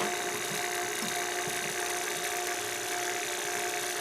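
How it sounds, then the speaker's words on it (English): A vacuum pump runs during a Sanyo mini split installation in a camper, giving a steady, unbroken mechanical drone with a faint whine. It sounds close and continuous throughout, with no voices. "turn off the vacuum pump"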